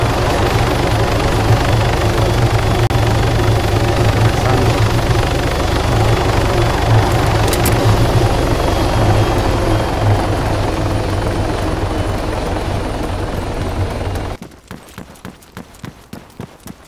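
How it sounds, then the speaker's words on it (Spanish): A helicopter in the video game Arma 3 gives a loud, steady rotor drone for most of the stretch, then abruptly drops off near the end, leaving quieter rapid ticking. "Un helicóptero a lo lejos."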